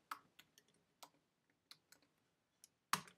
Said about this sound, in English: I'm going to type in Screencastify